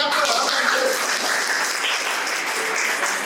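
Steady applause from a parish youth day audience, dense, continuous clapping at close range filling the whole stretch with no pauses.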